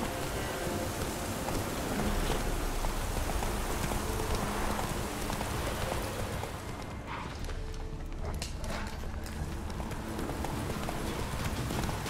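Roach, the horse in The Witcher 3, clip-clops steadily at a walking pace, hooves thudding close by over a dense outdoor ambience with a soft rain-like hiss, no voices present.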